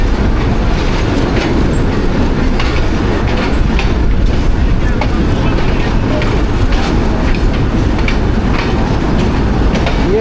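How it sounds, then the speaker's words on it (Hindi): Millat Express passenger train rolling into the main platform of a station, a loud steady rumble of wheels and cars with clickety-clack running throughout. "मेन प्लेटफार्म पे लिया जा रहा है जी मिलत एक्सप्रेस को"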